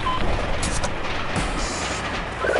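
A train in the video game Shadow Ops: Red Mercury keeps up a loud, continuous rumble and rattle of wagons on the rails, with faint game voices mixed underneath.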